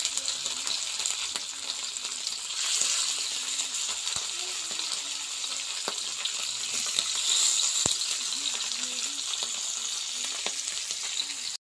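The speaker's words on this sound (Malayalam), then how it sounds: "പിന്നെ ഞാൻ മീൻ വറുക്കാനായിട്ട് വെക്കുകയാണ്" Fish frying in a pan in a village home kitchen, a continuous close sizzle and crackle of oil with occasional small taps and stirring sounds over it.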